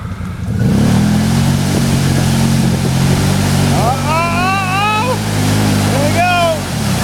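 A Can-Am ATV engine revs loudly and steadily close by as the quad tries to climb out of a hole, with voices calling out over the engine.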